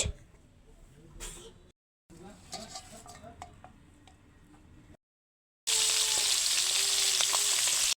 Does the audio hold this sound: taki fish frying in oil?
yes